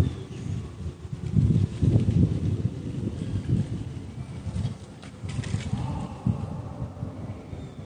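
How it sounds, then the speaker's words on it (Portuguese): Strong gusting wind buffets the microphone outdoors above central Rio de Janeiro during a drone flight, a steady low rumbling roar that swells and eases throughout with no talk. "Ventando muito forte."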